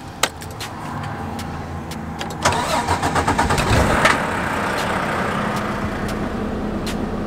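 The engine of a 2020 Volvo VNL 860 truck cranks with a brief rapid churn, then catches and settles into a steady, close, rumbling idle after an opening clack.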